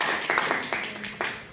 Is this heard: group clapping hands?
yes